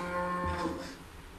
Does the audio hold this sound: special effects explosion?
no